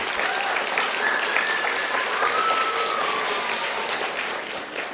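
An audience at an elementary school reading event applauds, a dense, steady wash of clapping from many hands that holds strong and eases slightly at the end.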